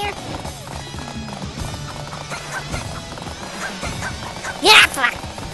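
Rhythmic hoofbeats of a galloping horse in the video game Dynasty Warriors 8 under steady talk, ending with a sharp high whinny.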